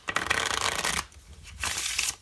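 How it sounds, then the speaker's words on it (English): A deck of playing cards gets riffle shuffled close by, giving two quick bursts of fluttering card snaps separated by a brief pause, with no talking. "If they don't know how to do a riffle shuffle, you do the riffle shuffle."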